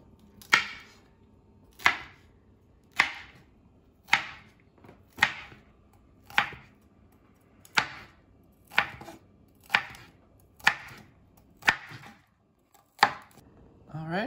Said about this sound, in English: So, just cut up some celery into some nice small pieces.